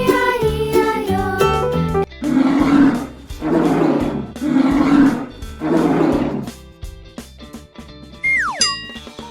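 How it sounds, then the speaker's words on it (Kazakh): Walrus calls in a children's animal-sounds song: four loud, rough roaring bellows in a steady rhythm over a playful musical backing, ending with a springy boing-like effect. "Морж, морж."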